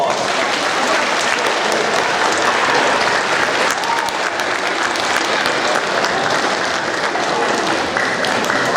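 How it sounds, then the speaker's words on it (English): An awards-ceremony audience for 7th grade awards claps in a loud, steady, sustained round of applause that fills the room without letup. "one final round of applause"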